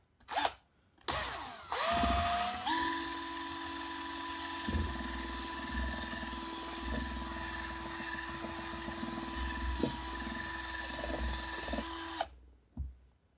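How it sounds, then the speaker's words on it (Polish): A cordless drill fitted with a mixing paddle whirs steadily for about ten seconds, churning a thick fish-based carp bait liquid, starting with short bursts and then running at a constant loud pitch before cutting off. "Więc po prostu biorę sobie mieszadło, wkrętarka, Ręcznie tego nie wymieszamy"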